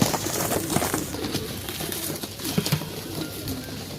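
Pigeons coo softly in a group at a bird market, low murmuring calls repeating under faint background bustle.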